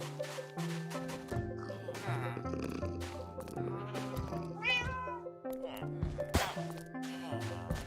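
A black cat in Minecraft meows several times in short, repeated calls over background music, with a player's voice heard at moments.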